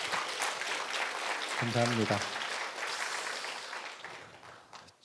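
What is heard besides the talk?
applause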